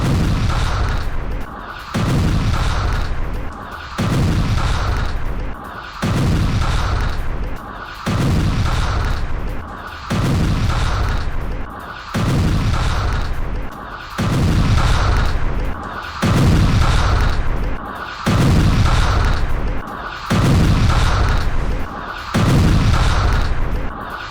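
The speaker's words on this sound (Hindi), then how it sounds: "गाजा में भीषण बमबारी जो की गई इजराइल की तरफ से एयर स्ट्राइक" Heavy, booming blasts from a missile and air-strike bombardment of Khan Younis, Gaza, repeat at a steady pace of roughly one every two seconds, loud and rumbling throughout with no voices.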